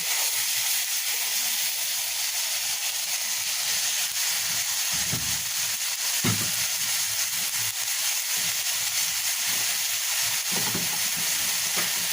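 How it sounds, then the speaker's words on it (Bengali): Spice masala fries in a pan with a constant loud sizzle and hiss, while a few soft low scrapes of stirring come through now and then. "এবার মশলাটাকে ভালোভাবে কষিয়ে নেব।"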